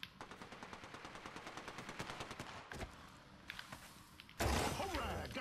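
Rapid automatic gunfire in the video game Apex Legends, a long fast burst of evenly spaced shots followed by scattered single shots, thuds and a louder final blast, fairly close.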